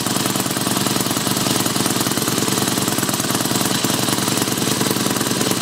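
A Mini Hog 70 small engine runs steadily up close, giving a loud, rapid, rattling buzz that stays constant throughout with no speech.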